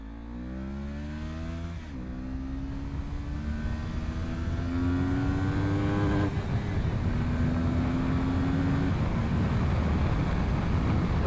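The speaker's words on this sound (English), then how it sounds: "There's a rev limiter right there." A Kawasaki Ninja 400 motorcycle engine revs up through rising pitch and holds at the rev limiter, giving a loud, continuous buzzing drone heard close with wind noise.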